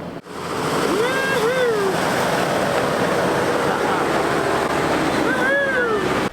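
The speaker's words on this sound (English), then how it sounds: "First river crossing of the Batang." A 4WD rushes through a river crossing on the Batang Valley Road, loud continuous water splash and churn, with brief voices calling out near the start and end.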